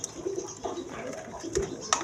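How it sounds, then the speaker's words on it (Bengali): A pair of Indian Kaldom pigeons coo softly in short low bursts, a few calls spaced across a couple of seconds, faint and close with a voice faintly present. "এক পেয়ার কবুতর আছে কালদম কবুতর দেখেন ইন্ডিয়ান কালদম কবুতর"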